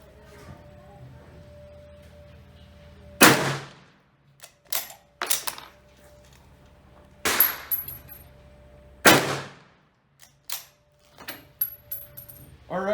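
An Enfield No.4 Mk1 rifle is fired at a target: several sharp, loud gunshots spaced a few seconds apart outdoors, each with a decaying echo, mixed with quieter clicks and clanks of the rifle's bolt being worked between shots.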